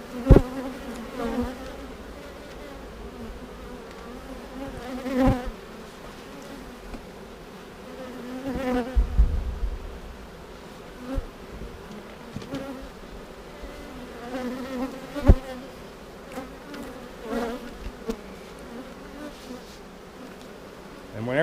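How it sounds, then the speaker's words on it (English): Honey bees buzz around an open comb honey hive, a continuous droning hum from a strong colony with occasional louder passes close by and a few knocks and handling sounds over about twenty seconds. "Still a good population in there, bees."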